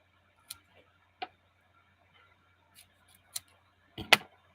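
Scissors trim excess paper during a scrapbooking session, several sharp, separate snips spaced irregularly with quiet gaps, the last one louder and longer.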